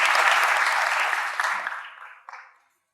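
Applause from an audience in a room, loud and full at first, then thinning out and fading to silence within about three seconds.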